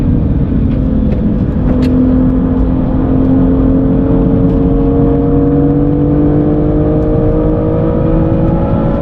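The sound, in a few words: BMW M2 NLS Version engine accelerating on Nürburgring Nordschleife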